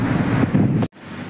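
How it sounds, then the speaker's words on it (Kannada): River rushing beside the Pahalgam base camp, a close, continuous roaring wash of water and wind that cuts out abruptly near the end. "ಸೊ ಪಕ್ಕದಲ್ಲೇ ನದಿ ಎಷ್ಟು ಚೆನ್ನಾಗಿ ಹರಿತಾ ಇದೆ"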